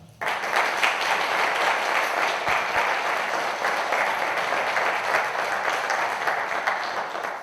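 An audience at a mystery-themed conference in Zamora gives a sustained, dense round of applause that starts abruptly and stays full and constant throughout.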